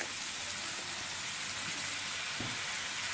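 Paneer being sautéed in a pan with full cream milk and pepper, giving off a steady, dense sizzle and hiss with a faint scrape or two and no talking.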